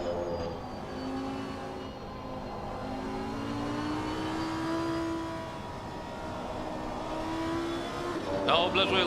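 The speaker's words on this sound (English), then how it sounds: "Lambo is loud" A Lamborghini V10 race car engine in a sim racing game, revving high and loud through rising and falling gear sweeps, a sustained droning roar with a brief sharper burst near the end and people talking over it.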